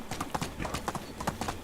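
Rapid hoofbeats of a horse galloping in Medieval Dynasty, a steady driving clip-clop rhythm of close, repeated hits with no talk over it.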